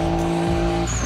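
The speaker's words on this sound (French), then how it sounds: "il s'agit de faire déraper sa voiture avec un maximum de style et de fumée, et quand il pleut, eh bien le spectacle est toujours là" A drift car slides on wet tarmac at a French drift event: a loud, close engine roar with a tonal tire screech and a shifting pitch, and no voices.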